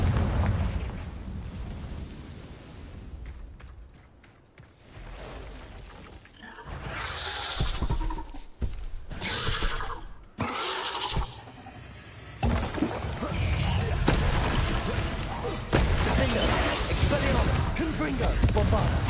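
Fire spell explosions in the Hogwarts Legacy video game, fought on hard mode. There are repeated loud booming blasts and roaring bursts with crackling debris, sustained rumbling between the hits, and a player's voice breaking in at times.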